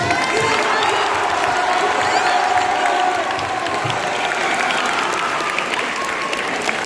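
An audience applauding at a Christmas magic show, a loud, dense and steady round of clapping from a crowd filling the room for several seconds, with faint voices mixed in.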